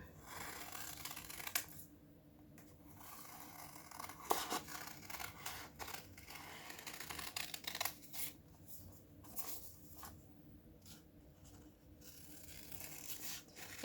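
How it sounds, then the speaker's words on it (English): Quiet, intermittent snipping of scissors through paper, a few close cuts separated by pauses, with soft rustling between them. "I want you to cut this out."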